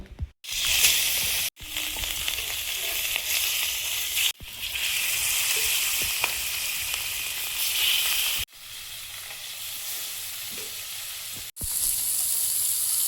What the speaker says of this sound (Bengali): মাছগুলো ভেজে নেব।